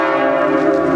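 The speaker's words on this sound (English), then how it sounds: "as you can hear the sound of the bells" Church bells ringing in the square of Sainte-Mère-Église during the Operation Overlord 80th anniversary, a loud, sustained metallic tone with rich overtones filling the brief moment without interruption.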